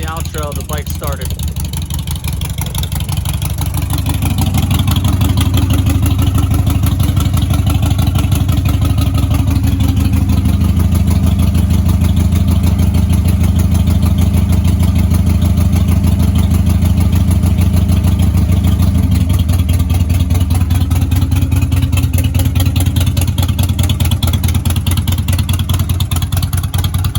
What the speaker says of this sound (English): literally as soon as I filmed the outro, the bike started.